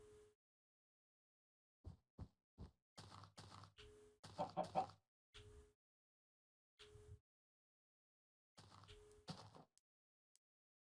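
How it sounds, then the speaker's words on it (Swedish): A chicken clucks in short, separate bursts with quiet gaps between them, close by and fairly faint. "En kyckling."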